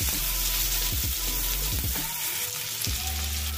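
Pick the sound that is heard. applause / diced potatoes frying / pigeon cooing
diced potatoes frying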